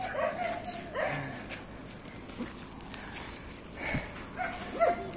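Dogs at a fishing ground in Binakayan give scattered yips, whimpers and a few short barks, close by and intermittent. People talk faintly underneath.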